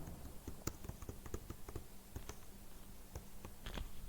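Keys on a computer keyboard are typed in an irregular run of sharp clicks across about four seconds, with a brief quicker burst near the end, close and fairly quiet. No one speaks.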